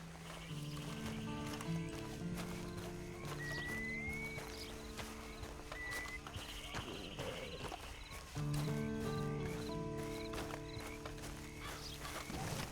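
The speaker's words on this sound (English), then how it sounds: "And you better get on this horse." A horse in the Red Dead Redemption video game walks with steady clip-clop hooves and lets out a whinny, with game music playing underneath and no talking.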